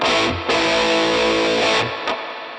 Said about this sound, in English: I'm going to select Spring Reverb, grab one of the defaults, and let's give it a listen